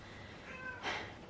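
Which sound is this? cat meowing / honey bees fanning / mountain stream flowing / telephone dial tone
cat meowing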